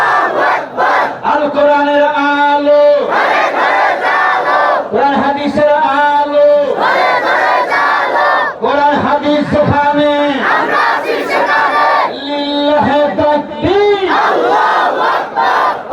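A congregation at an Islamic sermon chants the takbir in unison, with loud, rhythmic bursts of massed voices answering each other repeatedly and filling the space without pause.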